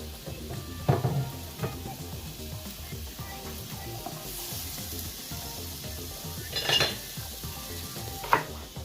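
Onions frying in butter in a pan sizzle softly and steadily, with occasional clinks and scrapes of utensils against the pan, no talking.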